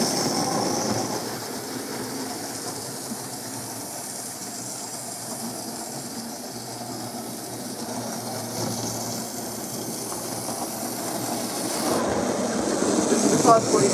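A model J72 coal train rumbles and clatters steadily along a track, with a hissing, rattling texture that grows louder near the end as voices murmur faintly.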